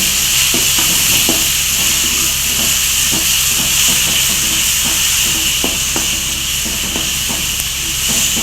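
Ginger garlic paste sizzles in hot oil in a pan while making chicken varuval kulambu, a loud, steady hiss that fills the whole stretch, with faint stirring clicks scattered through it and no talking.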